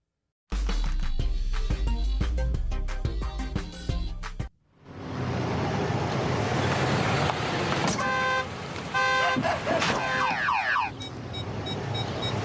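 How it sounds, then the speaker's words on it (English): A car's electronic parking sensor beeps in quick repeated tones over a steady hum of engine and road noise, following a burst of loud music at the start. "Forward and reverse parking sensors."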